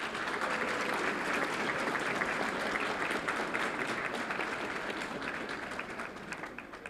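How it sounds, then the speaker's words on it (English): Steady applause from an audience at a Fort Worth ISD school board meeting, honoring a group of student athletes, dense clapping sustained and fairly even for several seconds before tapering slightly. "Let's give them a round of applause"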